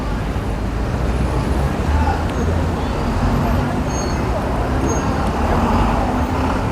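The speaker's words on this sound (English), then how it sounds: "Another city bus, not a double-decker, just a regular city bus." A regular single-deck London city bus moves along a busy street, set in a steady roar of road traffic and passing vehicles, with faint hubbub and brief high tones over the engine noise.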